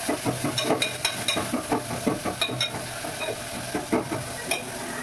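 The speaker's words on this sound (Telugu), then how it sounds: "ఎర్రగడ్డలు టమాటాలు అయితే బాగా డీప్ ఫ్రై అవ్వాలి, బాగా మగ్గిపోవాలి ఎర్రగా" Onions and tomatoes deep fry in a pan with a continuous sizzle, broken by rhythmic scraping and clinking of a utensil stirring against the metal.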